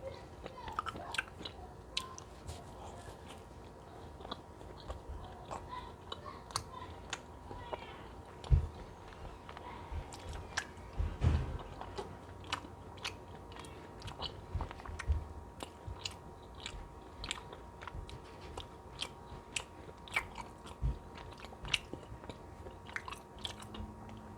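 Someone chews a Dunkin' Boston cream donut with chocolate topping, close soft bites and wet mastication repeating in an uneven rhythm, with occasional louder crunchy clicks.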